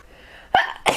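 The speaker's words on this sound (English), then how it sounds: "I'm gonna sneeze." A single sharp sneeze bursts out close by, a quick intake followed by an explosive release after a quiet moment.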